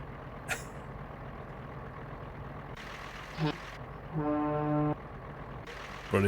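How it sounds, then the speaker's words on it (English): A truck's horn gives one deep, steady, ship-like blast lasting under a second over a continuous cab engine drone, with a brief hiss of air brakes and faint voices nearby. "The horn, hang on."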